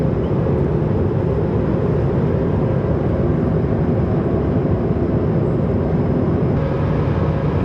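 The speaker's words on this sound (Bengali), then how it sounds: "এই এখন ল্যান্ডিং করছি মন্ট্রিয়ালে" A passenger airplane landing in Montreal produces a loud, steady, broadband cabin roar of engines and airflow that holds constant throughout, with no talk.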